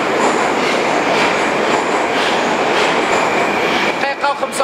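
A Moscow metro subway train runs loudly and close, with a steady rumbling roar, rhythmic wheel clatter and squeals near the end, and no voices over it.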